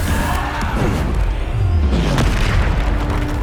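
A Bombarda spell blasts in Hogwarts Legacy, a loud, continuous booming rumble with dense low-end roar that fills the whole moment without letup.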